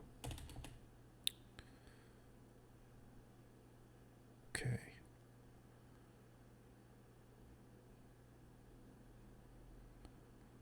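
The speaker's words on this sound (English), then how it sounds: "I'm just hitting the keys." A computer keyboard is tapped in a few sparse, faint clicks with a brief louder clatter midway, surrounded by long quiet stretches of low room hum.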